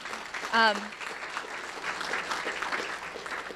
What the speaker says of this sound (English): So maybe a round of applause just for that portion.